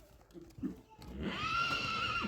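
A four-year-old horse whinnies loudly after a few soft low sounds, a sustained high neigh that holds steady for about a second before the end.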